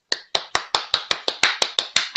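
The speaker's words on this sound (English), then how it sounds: "I clap for them, clap for them" Hands clapping in a quick, even rhythm, about eleven sharp, close claps in just over two seconds with nothing else around them.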